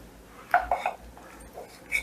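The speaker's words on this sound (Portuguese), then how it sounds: "Eu amasso aqui dentro mesmo dessa panela." Boiled, drained cassava being mashed inside a small 2-litre cooking pot, giving a few quick metallic clinks and knocks close by around the middle and a last tap near the end, with quiet gaps between.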